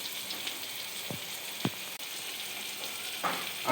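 Meat curry simmers in water in a pan with a soft, steady bubbling sizzle, quiet and close, with a few sharper pops and clinks scattered through.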